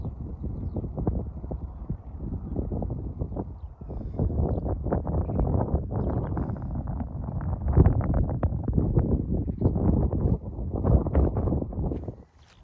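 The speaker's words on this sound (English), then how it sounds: "Whenever I come up on Cleeve Hill, it's windy." Steady wind gusts roar across the open summit of Cleeve Hill, the highest point of the Cotswolds, buffeting loudly and continuously with low rumbling surges and no voices.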